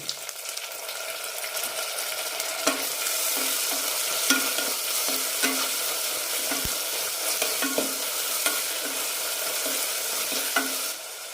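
Tomatoes sauté in a pan with green chillies, coriander and mint leaves, giving a steady, close sizzle broken by repeated scraping stirs of a spoon, with no talking.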